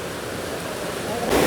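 Water rushes through a narrow rocky gorge in Watkins Glen State Park, New York, during rain, a steady broadband roar that swells louder toward the end.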